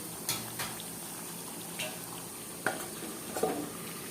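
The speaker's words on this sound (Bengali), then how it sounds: "ঢাকনাটা খুলে আবারও একটু নেড়ে দিচ্ছি" Duck meat curry being stirred in a pan after the lid comes off, soft scraping strokes at irregular intervals over a low background of bubbling and sizzle, fairly quiet and close.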